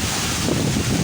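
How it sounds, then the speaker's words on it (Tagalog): Loud, steady roar of strong typhoon wind buffeting the microphone, a continuous rushing noise with no pauses. "Takot talaga yung hangin."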